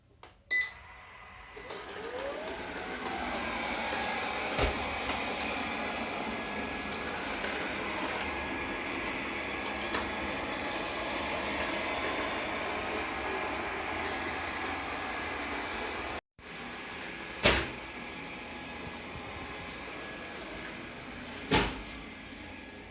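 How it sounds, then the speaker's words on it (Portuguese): A robot vacuum mop runs across a bedroom floor with a steady, even whirring hum, joined by a few sharp knocks and bumps near the end. "vou colocar água e colocar ele pra aspirar aqui no quarto"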